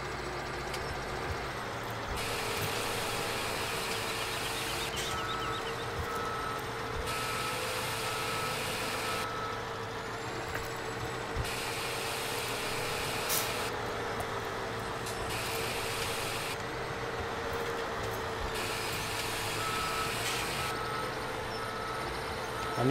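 A tractor in Farming Simulator 17 reversing a trailer while finishing a chaff silo, its engine droning steadily at low revs with a repeating on-off reversing beep pattern throughout, no voices over it.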